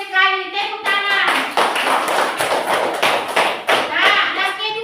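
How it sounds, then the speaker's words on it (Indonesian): A class of children claps together in rapid, fairly loud bursts lasting several seconds, with young voices calling out at the start and end. "Bagus sekali, tepuk tangan."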